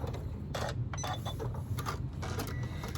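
Domestic sewing machine stitching two fabric pieces together, a steady low mechanical hum with faint rhythmic needle chatter running continuously, with soft handling clicks above it.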